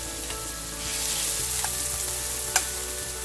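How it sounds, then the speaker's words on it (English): Onions fry in hot regular cooking oil, a steady close crackling sizzle with a couple of brief sharp pops. "once you know that's hot, add the onions"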